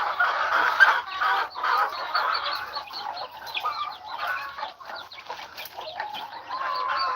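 A flock of chickens clucking at a farm, with overlapping close clucks and chattering calls continuing steadily throughout, no talking.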